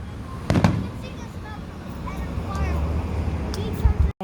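Fireworks bursting at a downtown fireworks show, with a couple of sharp pops and booms over a steady low rumble of distant explosions and crowd babble outdoors.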